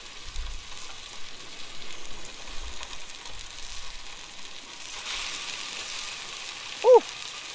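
Yellowfin tuna steaks searing in a very hot pan give a steady, moderately loud sizzle that swells partway through, ending with a brief sharp squeak.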